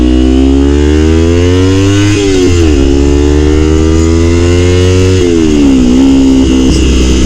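Kawasaki Ninja 300 motorcycle engine revving loud and close, pitch climbing steadily through the lower gears with brief dips at each shift, continuous throughout.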